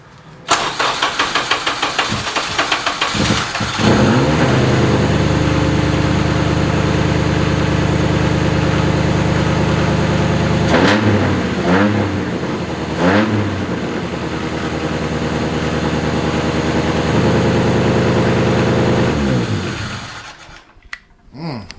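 A Honda K20 engine on a FuelTech setup, loud and close, fires up and settles into a high, steady idle, with several sharp revs blipped midway before it drops back and shuts off.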